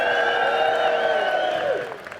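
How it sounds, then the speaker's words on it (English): An audience cheers in unison, with sustained whoops and voices close and loud, and a few claps, fading out near the end. "Let's give them a cheer now in solidarity"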